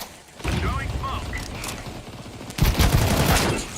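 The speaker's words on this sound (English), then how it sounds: "Throwing a grenade. I think Throwing flashbang. Throwing smoke." Grenade, flashbang and smoke grenade thrown in a video game: mechanical clicks and short bursts of game combat noise, with a loud clattering burst near the end, heard under a talking voice.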